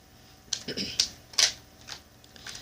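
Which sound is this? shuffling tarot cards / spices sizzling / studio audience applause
shuffling tarot cards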